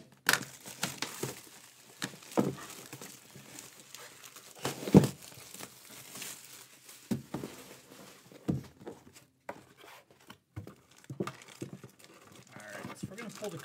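A 2023 Gold Rush Shoebox Collection basketball card box and its packs are torn open, with sharp bursts of wrapper crinkling and tearing scattered among quieter handling noises, close and fairly faint, while a person talks.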